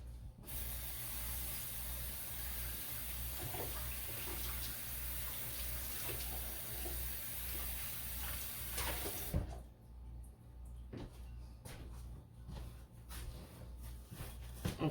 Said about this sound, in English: Let me give it a quick rinse.